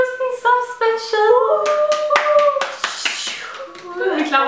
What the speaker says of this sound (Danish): Vi klapper lige her